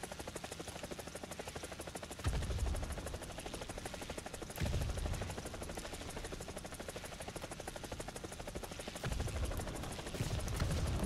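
An AH-64 Apache attack helicopter in War Thunder fires unguided rockets. The rotor thrums steadily throughout, and three heavier bursts of launches punch through at intervals.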